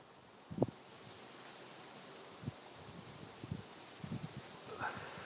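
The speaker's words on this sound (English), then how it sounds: "Wind is totally picked up." Steady wind of about 10 to 12 miles per hour rushing through an outdoor space at night, with scattered rustles and a few soft knocks nearby.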